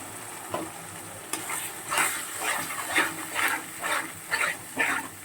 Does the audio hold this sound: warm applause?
no